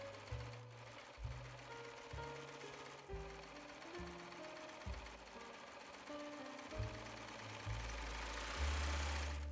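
A sewing machine stitches slowly along the shoulder seam of a crop top, its motor whirring and knocking in a series of short stop-start runs, quiet and close, no voices.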